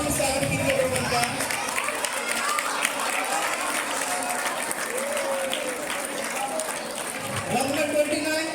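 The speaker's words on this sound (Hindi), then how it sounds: "रोहन के लिए ताली बजाइए भाई जोरदार तालियों से स्वागत कीजिए रोहन का" A school audience at a Class XII farewell gives loud, sustained applause for a student, a dense crowd clapping mixed with cheering and chatter throughout.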